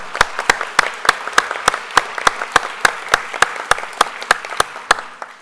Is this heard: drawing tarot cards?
no